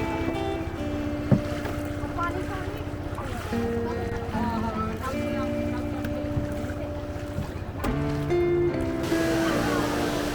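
A small reserved boat heads along the river at Jaflong in Sylhet, its steady engine drone and hum continuing throughout, with wind noise over it.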